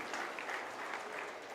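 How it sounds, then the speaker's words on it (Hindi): Steady audience applause at a Bharatiya Janata Party political event with the chief minister, dense clapping held at an even level throughout, with no talk over it. "सब लोग ताली बजाएंगे।"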